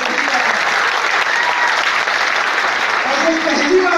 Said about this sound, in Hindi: एक बार इनके लिए दहाड़ की क्लैपिंग हो जाए।